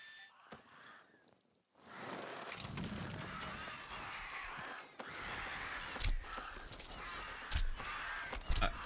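Hostile crows in the video game Atomfall caw harshly and repeatedly, close and fairly loud, over a rushing game ambience, with sharp flaps and hits breaking in near the end.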